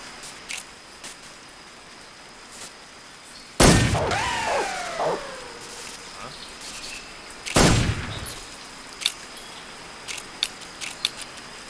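Gunfire in the Metal Gear Solid 3 video game: two sharp loud shots a few seconds apart, each with a ringing tail, among scattered small clicks and clatter.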